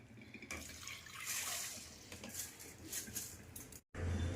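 Water draining and trickling from three-day-soaked rice tipped onto a mesh sieve, a steady close wash of splashing liquid that runs continuously with a brief break near the end.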